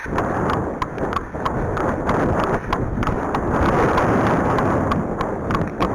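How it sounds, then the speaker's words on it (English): Heavy wind buffeting the microphone in a constant low roar, with faint regular clopping of a horse's hooves beneath it. "It is quite windy"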